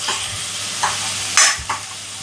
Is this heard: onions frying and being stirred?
yes